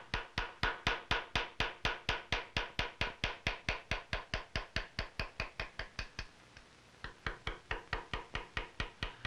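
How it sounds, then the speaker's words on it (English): A round bottom chisel struck repeatedly while cutting engraving into a gun side plate in a colonial gunsmith's shop, giving a steady fast series of sharp taps, close and loud, with a brief pause near the end. "A round bottom chisel is used for cutting lobes and leaves."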